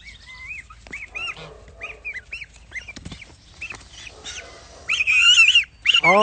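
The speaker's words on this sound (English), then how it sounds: "All of the baby geese." Baby geese at a garden studio give repeated high squeaky honks and peeps, moderately close, with a louder burst of calls near the end and some soft background movement.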